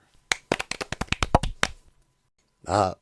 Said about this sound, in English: The technicians also applaud her.